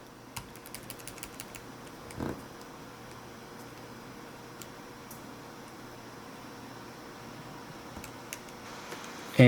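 Scattered keypresses on a computer keyboard's arrow keys, sparse faint clicks in short runs over a quiet room hum from a fan, with one louder thump midway and at the end.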